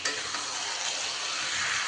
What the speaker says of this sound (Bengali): কষানো চলছে